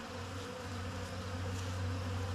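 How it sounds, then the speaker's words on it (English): Honey bees at a Flow Hive during a honey harvest hum in a steady, dense buzz with a low droning tone, many insects close together and agitated, no voices. "let these bees just calm down"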